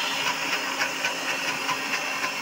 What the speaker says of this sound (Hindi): ये लास्ट बार चावल पिसा रहे हैं